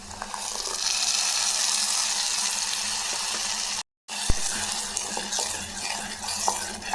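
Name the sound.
sautéing ground tomato paste in a pan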